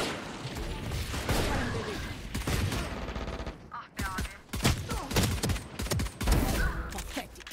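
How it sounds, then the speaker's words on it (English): Rapid automatic fire from a Stinger submachine gun in the shooter game Valorant rattles in dense bursts, mixed with other gunshots and mechanical clicks, loud and close; a voice speaks briefly amid the shooting. "we're just getting flashed and sprayed with the stinger"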